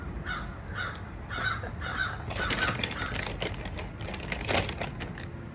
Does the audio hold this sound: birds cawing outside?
yes